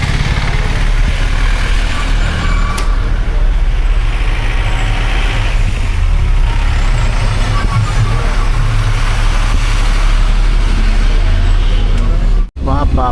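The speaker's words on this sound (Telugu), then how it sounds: "చూడండి ఇంత చిన్న ట్రావెలర్ వచ్చినప్పుడు ఇంత కష్టం అవుతుంది." A small Traveller van labouring along a narrow road on the Sabarimala traditional path, its engine a steady, loud, close drone throughout with a voice talking over it.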